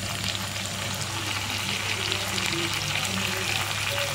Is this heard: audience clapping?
no